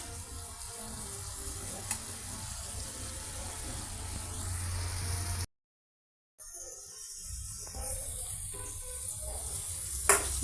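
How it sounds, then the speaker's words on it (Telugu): Ivy gourd pieces frying in oil with curry leaves and whole seasoning spices, a steady close sizzle with a short silent gap and a few stirring clinks. "కర్రీ లీవ్స్, పోప్ మసాలాతో మన దొండకాయలు ఈ విధంగా ఆయిల్తో ఫ్రై అవుతున్నాయండి."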